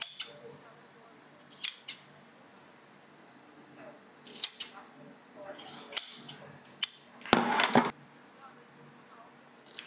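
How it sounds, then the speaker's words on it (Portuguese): Fabric scissors trim excess material from a sewn blouse in a series of sharp, close snips, some single and some in quick pairs, with a louder double cut near the end. "eu vou pegar a tesoura,"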